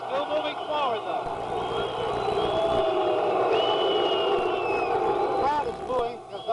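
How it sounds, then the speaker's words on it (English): Boxing arena crowd booing during a Bob Foster versus Jorge Ahumada fight, a broad sustained roar of many voices filling the hall, loud and continuous with shouts rising over it. "The crowd is booing because Ahumada came up with his head under Foster's chin."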